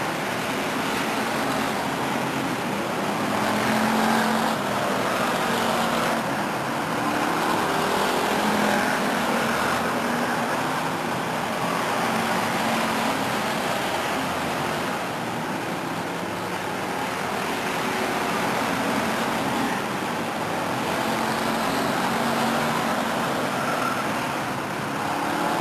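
Race cars lap an oval track at Stockton in a 1999 event, a steady, continuous engine roar that swells and fades gently as the field circles, loud and unbroken with no voices.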